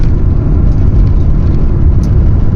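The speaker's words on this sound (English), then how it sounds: "This is not a big engine, it's not a powerful, sophisticated engine, but it does the job." A vintage VW T3 (T25) van engine hums steadily while the van drives downhill on the A537 Cat and Fiddle road, a constant low rumble at an even, fairly loud level with no talking.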